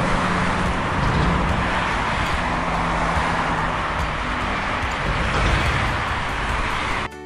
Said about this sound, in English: LORRY lorry.